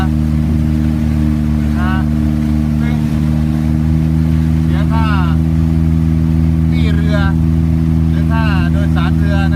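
A passenger boat's engine drones loud and steady on a river trip in Laos, a constant mechanical hum running throughout while people talk briefly over it.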